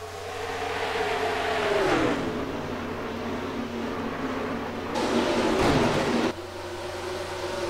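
Race car engines in a racing video game at Las Vegas, a steady loud drone of several cars pushing hard with engine pitch rising and falling as they pass, no talk.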